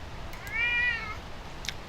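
A domestic cat gives a single clear meow near the microphone, rising and falling over about half a second, with quiet room noise around it and no talking.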